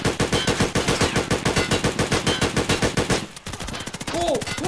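Rapid automatic gunfire in the Escape from Tarkov video game, a steady burst of evenly spaced loud shots for about three seconds, then a short pause before sparser shots continue under a brief tonal sound.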